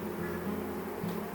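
A swarm of bees clustered inside a house wall gives a steady low droning hum, continuous and fairly faint, with no talking.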